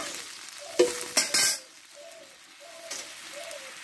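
Soft frying sizzle with a few sharp clatters as fried eggplant is tipped into a pan of braised mixed vegetables for a vegetarian Bengali dish, followed by a quieter steady simmer.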